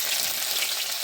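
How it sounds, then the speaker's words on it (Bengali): Onions frying in hot oil with whole spices, cardamom, cloves, cinnamon and a dried chilli, a steady close sizzle with no talk over it. "পেঁয়াজটা ভাজা হয়ে গেছে"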